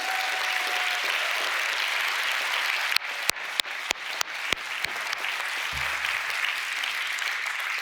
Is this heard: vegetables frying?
no